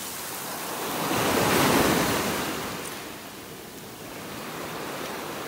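Ocean surf washes onto a beach in North Naples, Florida, a steady broadband roar that swells into one louder wave and then eases back, with light wind buffeting and no speech.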